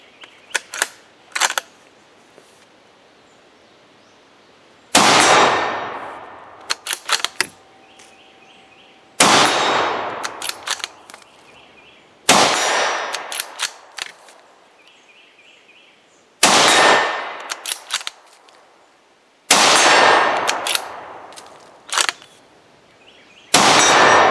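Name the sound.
gunshots hitting CTSTargets ABC Zone steel target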